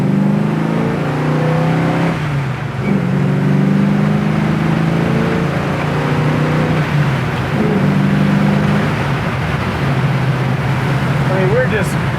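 A 1966 Chevelle with an electric fan and aluminum radiator cruises on a test drive, its steady engine drone and road rumble filling the cabin continuously while people talk over it.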